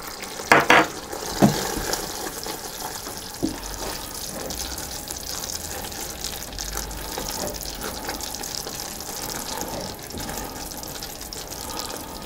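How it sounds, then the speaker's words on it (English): Salt and vanilla extract are stirred into hot homemade caramel in a pan, giving a soft, steady scraping and bubbling with a few sharper clinks early on, close by and with no talk. "now I'm going to sprinkle in my salt and stir that in"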